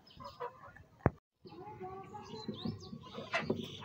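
Chickens cluck around a household coop, a few close calls rising over a busy background of faint voices and farmyard noise, with one sharp knock near the start.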